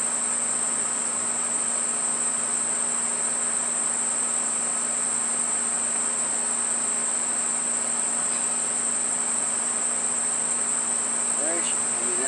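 Honey bees, about four pounds of them being added to a hive, drone in a steady, low, continuous buzz that stays even throughout at moderate volume.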